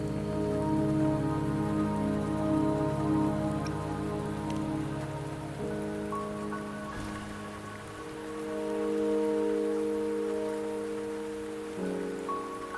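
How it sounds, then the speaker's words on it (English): Steady rain pours across the ground in the video game Wuthering Waves, a dense, even hiss of drops layered with soft tonal game music, continuous and fairly quiet with no one talking. "Don't worry, the rain won't last much longer."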